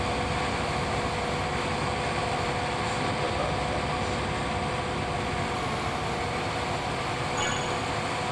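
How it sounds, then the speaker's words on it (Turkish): A New Holland tractor engine in Farming Simulator 22 roars steadily and loudly from inside the cab, a dense, unbroken mechanical drone with no pauses or talking. "Motorun sesi çok geliyor dışarıya."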